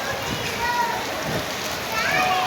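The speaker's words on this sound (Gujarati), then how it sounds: "વરસાદ પણ આટલો ચાલુ છે ઘણો બધો ચાલુ છે" Heavy rain pours in a dense, constant hiss with strong wind in Palitana, with faint voices of children and people in the background.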